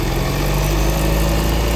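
A Volvo S90 idles smoothly after a noise repair, a steady low engine hum with even vibration, close and constant throughout.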